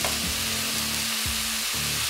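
Onion, mushrooms and sausage frying on a Weber grill, a steady close sizzle with soft scraping and stirring sounds running through it.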